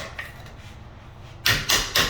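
Three quick metallic taps ring out close by after a quiet stretch as door staples are hammered against a metal scraper tool.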